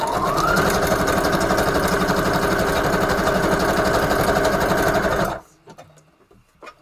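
A sewing machine runs in one steady, loud burst while craft pages for Valentine-themed projects are stitched, then it stops abruptly, leaving a few faint clicks and handling sounds.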